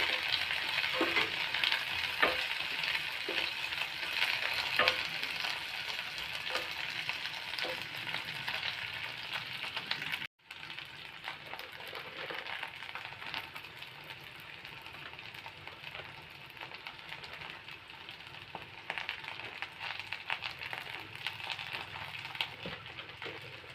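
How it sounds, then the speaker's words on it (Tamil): Ivy gourd (kovakkai) sautéing in a pan, a steady close sizzle and crackle with occasional stirring scrapes, briefly interrupted midway before continuing a little quieter. "இது லைட்டாக வதங்கிட்டோம்."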